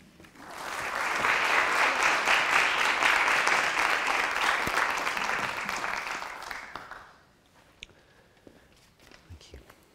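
An audience breaks into applause welcoming Ben Crystal as a speaker, swelling quickly, holding strong for several seconds, then tapering off into quiet shuffling and a few faint sounds.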